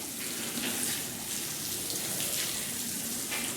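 Water pours and splashes steadily onto potting soil mix at a perennial plant nursery, a continuous close wash of trickling and spattering with no talk.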